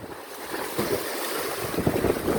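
Ocean waves wash in and draw back along a shoreline at low tide, a steady broadband surf wash rising and falling in gentle surges, with some wind buffeting the microphone and no voices.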